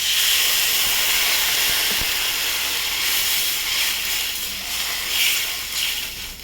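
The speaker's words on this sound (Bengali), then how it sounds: "আমার ঝোলটা ফুটে গেছে" Fish curry broth boils in a pot with potatoes, making a steady, fairly loud hissing, bubbling rush that carries on throughout with slight swells.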